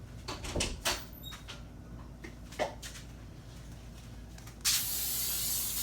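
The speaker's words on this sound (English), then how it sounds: "I'm gonna spray my casserole dish here" A few soft knocks and clinks, then a sustained hiss of aerosol cooking spray onto a casserole dish starting near the end and continuing steadily.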